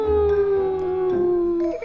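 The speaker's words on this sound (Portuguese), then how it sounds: "o cachorro do Rossini é muito engraçado" A dog howls in one long, loud, sustained tone that wavers slightly before trailing off, heard close and alone without talk.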